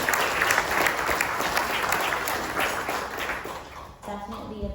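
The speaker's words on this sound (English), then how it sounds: "Let's give our friends at the Hilton a round of applause for our lunch today" Audience applause at a Chamber of Commerce lunch meeting in a hotel banquet room, a steady wash of clapping from many hands that thins out before a voice begins speaking at the end.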